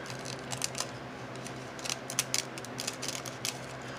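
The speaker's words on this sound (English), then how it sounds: "Big dog scissors back out." Scissors snipping a piece of nail foil up close, making a string of small, crisp clicking cuts over a faint steady background hum.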